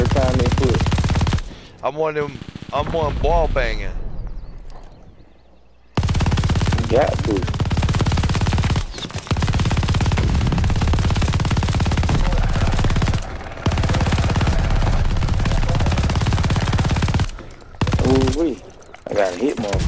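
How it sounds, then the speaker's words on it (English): Rapid automatic gunfire and gunshot bursts in a Call of Duty Vanguard multiplayer match, loud and near with echoing fusillades, broken by brief pauses and mixed with a player talking. "They keep shooting me in the spawn every time they push."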